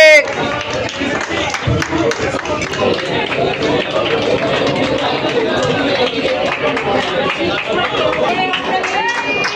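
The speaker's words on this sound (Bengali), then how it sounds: "জোরে হাততালি হয়ে যা" Applause and clapping from a crowd at a photography exhibition, steady and fairly loud, mixed with lively chatter and voices throughout.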